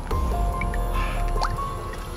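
Hot water dripping and splashing in irregular drops, close by, over a low steady rumble, with squishy liquid sounds and a faint tonal hum.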